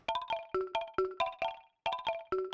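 Galen Tipton one-shot sample played with its filter off: a bright, bell-like plucked tone repeating in quick rhythmic bursts, loud and close, with a short gap before the pattern resumes.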